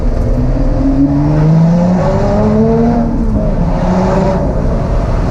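A Lotus Exige Sport 380 engine heard from inside while driving, with steady rising tones as it pulls through the gears and brief dips at shifts; loud, close and continuous with no talking.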